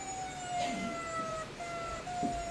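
A police car siren wails at a moderate distance during a high-speed chase, its steady tones drifting over a low rumble of street noise.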